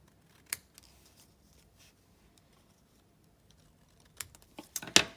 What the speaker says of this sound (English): And then you'll trim off the excess with your scissors.